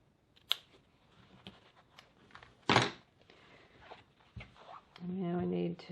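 Scissors snip into the fabric corners of a sewn bowler bag lining with an interior zipper pocket, giving a few short, close, crisp cuts and clicks amid quiet handling noise. A voice speaks briefly near the end.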